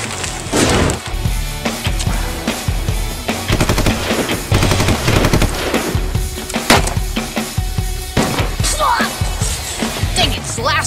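Rapid bursts of gunfire crackle loudly throughout, dense, overlapping shots with splintering impacts, mixed with scattered voices.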